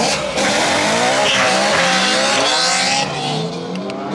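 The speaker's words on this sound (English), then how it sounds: "dude, those pops are insane. Loudest F80 I've ever heard, bro." A BMW F80 drives past loud and close, its exhaust roaring with bursts of popping and crackling as the engine revs, with tires squealing over the sustained noise.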